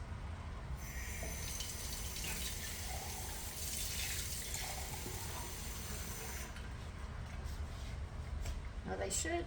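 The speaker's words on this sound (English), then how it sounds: "They want you to add a half a cup of water to this." Half a cup of water is poured into a pan of meatballs in onion and tomato sauce with bulgur, a steady splashing pour close by that tapers off near the end.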